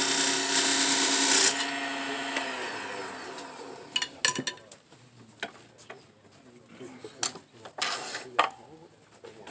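Wood lathe turning a tenon on a white wood such as holly for a mushroom-shaped salt or pepper shaker: a loud steady spinning whine for the first second and a half, then quieter scraping and scattered clicks and knocks.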